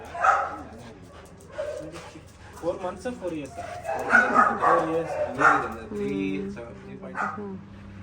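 Dogs at a pet boarding place give several barks and yips, some whimpery, mixed in with nearby people talking.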